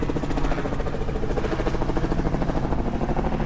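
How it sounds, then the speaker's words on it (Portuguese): A continuous, rhythmic rotor thrum of a helicopter, loud and steady throughout with no voices. "Bonito o helicóptero."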